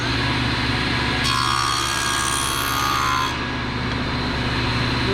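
A power saw cuts through wood for an epoxy table structure, trimming off a remaining half-inch portion. The motor runs steadily throughout, and the cut grows louder and harsher for about two seconds in the middle before easing back to a plain running hum.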